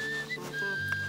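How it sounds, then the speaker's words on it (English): A person whistles a short melody up close, clear and alone, with a slight wavering pitch over about a second. "I whistle in."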